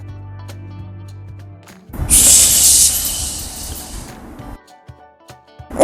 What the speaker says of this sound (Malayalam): ഇതിൽ നമുക്ക് വെള്ളം ഒഴിക്കണം.